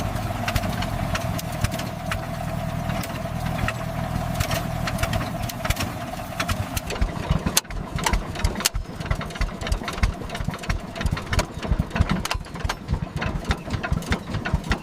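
An 1893 Duryea Motor Wagon engine chugs and clatters continuously up close, with a rapid mechanical knocking rhythm that grows harsher and more irregular midway.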